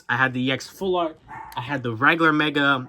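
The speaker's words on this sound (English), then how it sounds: "I'm sorry if you can hear my dog in the background." A pet dog barks a few times in the background of a room while a person talks steadily in the foreground, the barks partly buried under the voice.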